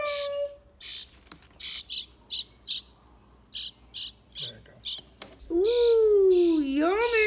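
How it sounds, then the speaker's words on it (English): Baby birds that fell from a roof chirp in a sharp, high rhythm of repeated short bursts from close by. It swells into a louder, sustained begging squeal, with a faint voice briefly in between. "So we have some baby birds that fell out of our roof, and we've been feeding them."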